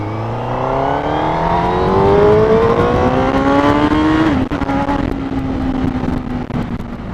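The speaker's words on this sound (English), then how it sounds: "It accelerates pretty briskly until you get up into the upper reaches of the rev range, and then you can feel the power come in" A 2018 Honda CBR1000RR SP Fireblade engine accelerates hard, its smooth whine climbing steadily in pitch, then dropping briefly at a gear change before pulling up again, loud and close.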